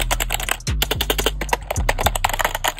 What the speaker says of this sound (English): this keyboard is actually really good, guys. Like, just hear the noise.